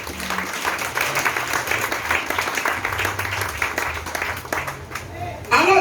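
A church congregation applauds during a sermon, with dense sustained clapping from a crowd that carries on for several seconds under a few scattered voices.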